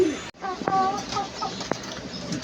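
A desi laying hen clucks a few times up close, short throaty calls in a quiet space.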